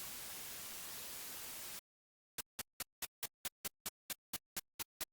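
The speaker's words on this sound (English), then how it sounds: "A noise wave from FreeX Oscillator will work perfectly." A synthesized noise wave from the FreeX oscillator hisses steadily and loudly for almost two seconds, then cuts to silence before a rapid, regular train of short noise clicks begins.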